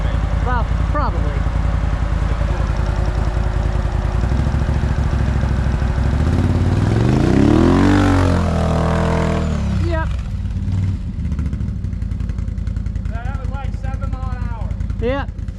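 A Renegade 1000 on stock tires revs hard on a hill climb, its engine note sweeping up and down loudly in the middle before settling back to a steady drone, with people talking throughout.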